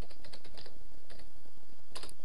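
An admin password being typed on a computer keyboard: a quick, close run of crisp key clicks over steady background hiss, with no speech.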